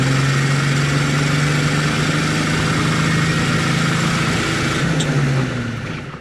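Engine of a 1954 Chevrolet 3100 five-window pickup with a 235 six and four-speed, pulling steadily in third gear on a test drive; loud, continuous drone close by with a steady pitch, easing off near the end.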